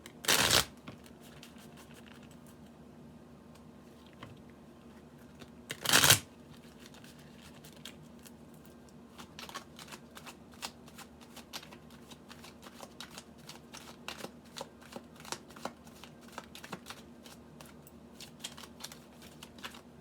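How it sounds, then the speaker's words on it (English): Tarot cards are shuffled close up: two sharp riffle bursts, then a long stretch of soft flicking and sliding of the deck. "Give these a good shuffle here."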